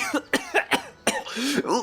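An audiobook narrator voices a man's coughing fit after he swallows burning-tasting tap water: a rapid series of harsh coughs and throaty gasps, close and alone.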